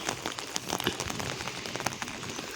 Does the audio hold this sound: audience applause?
no